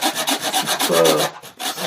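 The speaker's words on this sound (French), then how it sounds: "il faut aller très vite pour scier avec cette scie-là" Rapid hand-saw strokes rasp through wood in a quick, steady rhythm, close and loud, with brief pauses between bursts of cutting.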